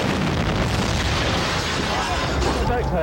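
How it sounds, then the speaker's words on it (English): A bomb explodes outside a reopened school in Iraq during a news report, a loud, dense, sustained roar of blast noise filling the whole moment with broad rumble and debris-like crackle. "A bombing outside."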